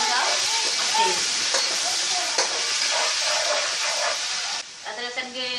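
Ginger garlic paste fries with light brown onions in a pan for stuffed keema karela, giving a loud, continuous close sizzle and hiss while a voice speaks over it.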